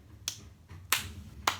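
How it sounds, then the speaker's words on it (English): Three sharp, brisk swishes of palms sweeping against each other during a meditation exercise, spaced unevenly and fairly close, with no talking. "rubbing my palms together"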